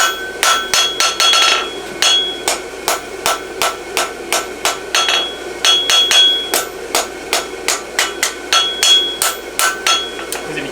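A hammer strikes a steel concave horseshoe blank on an anvil while flattening it, ringing metallic blows landing in a steady rhythm of roughly two per second, close and loud throughout with brief pauses between bursts.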